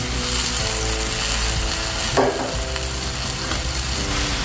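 Mushrooms tumble into a hot pan already cooking cauliflower and are stirred, giving a steady close sizzle with scraping utensil strokes and a brief louder clatter midway.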